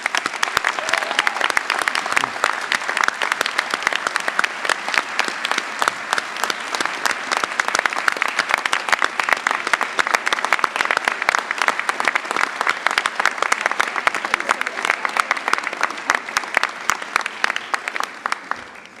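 A large crowd at a medical school class day ceremony applauds loudly and continuously, a dense, even roar of clapping that holds strong for nearly twenty seconds.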